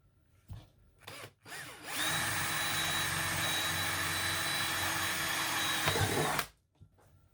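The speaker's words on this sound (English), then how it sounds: "I'm drilling at the highest part of the tank." A power drill bores into the top of a diesel fuel tank, a few brief handling knocks before a steady, loud, high whine that runs for about four seconds and then cuts off abruptly, close up with no voices.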